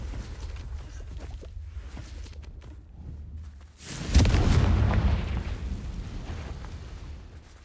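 Spell explosions in Hogwarts Legacy: quiet rumbling combat sounds give way to a sudden loud blast about halfway through, followed by a long, decaying roar.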